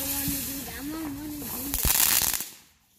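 Fireworks on the Fourth of July going off in the distance: a hissing burst and a cluster of sharp crackling pops, with a person speaking before the bangs.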